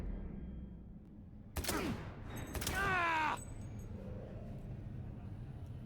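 Bursts of gunfire from the Cyberpunk 2077 Phantom Liberty video game, two short loud volleys over a low steady background hum, with a brief gap between them.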